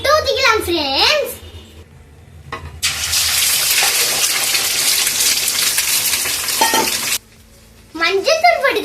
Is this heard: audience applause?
no